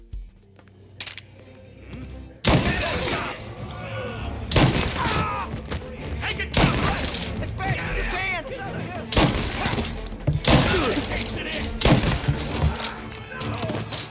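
A revolver fired one-handed in the Mafia video game: several loud, sharp shots at irregular intervals, each with a booming tail, over busy game sound with what seems like background voices.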